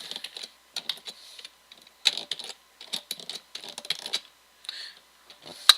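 Irregular bursts of keystrokes on a computer keyboard, typed in quick clusters with short pauses, close and fairly quiet, no voices.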